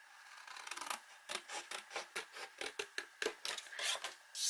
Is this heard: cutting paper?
yes